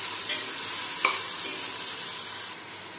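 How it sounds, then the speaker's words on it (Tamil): Seven green chillies with coriander and mint sauté in a pan with a dense, even sizzle and a couple of brief stirring knocks. The hiss eases slightly toward the end. "நான் 7 பச்சை மிளகாவை சேர்த்துருக்குறேன், அதையும் நல்லா வதக்கிக்கலாம்."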